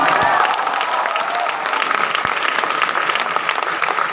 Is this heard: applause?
yes